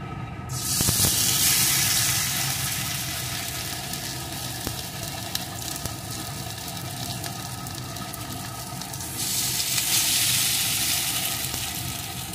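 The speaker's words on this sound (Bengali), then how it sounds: "এখন গ্যাসের জোরটাকে লোতে দিয়ে মাছের পিস দুটো দিয়ে দেব।" Two fish pieces fry in a well-heated pan with no oil over low to medium heat, giving a steady hiss that swells loudly at the start and again near the end.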